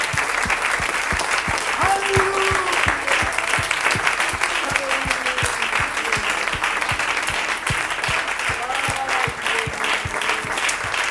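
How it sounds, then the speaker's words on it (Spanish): A church congregation applauds steadily and loudly throughout, dense clapping with voices calling out over it now and then. "Den un aplauso al Señor."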